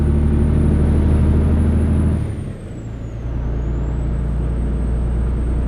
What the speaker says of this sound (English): Kind of like the way this truck sounds